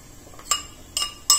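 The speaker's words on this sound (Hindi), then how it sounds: "जो बेसन और दही है उसको मिक्स कर लेते हैं एक बड़े बाउल में" A spoon striking a large bowl while gram flour and yogurt are mixed, three sharp separate clinks against a quiet background.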